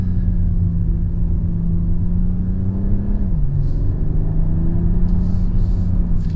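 A BMW M340i G20 with its 3-litre inline-6 B58 engine pulls steadily in gear from inside the cabin, a loud droning growl with a brief pitch dip midway before climbing again, no talking.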